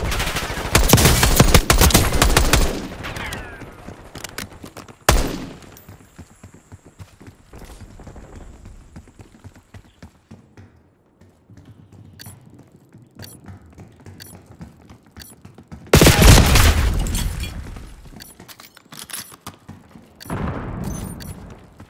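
Gunfire in Call of Duty Black Ops 6 on the Nuketown map: loud bursts open the clip, a sharp shot cracks around five seconds, another heavy burst hits near sixteen seconds, with quieter scattered shots and mechanical clatter in between and no talk.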